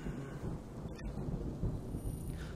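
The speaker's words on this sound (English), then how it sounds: "It sounded like it was going to start raining again." Rain falls steadily with a low rolling rumble of thunder in the horror game Home, a dense, even wash of noise with no voices.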